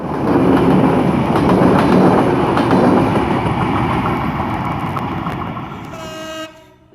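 The Nilsagar Express, a Bangladesh Railway passenger train with mixed Indonesian PT INKA and Chinese CRRC coaches, rumbles past close by, wheels clattering loudly, then a horn toots near the end as the noise fades away.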